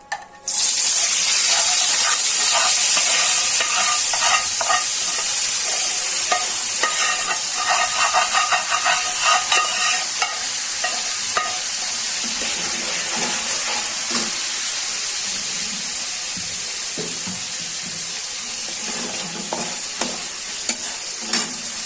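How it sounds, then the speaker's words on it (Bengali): Flat beans fry in leftover fish-frying oil with a constant, loud sizzle and crackle, interrupted by intermittent stirring scrapes throughout. "তারপরে মাছ ভাজার তেলটা দিয়ে সিমগুলো ভেজে নিব।"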